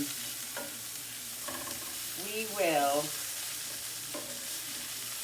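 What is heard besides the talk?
sautéing mushrooms with minced garlic in a pan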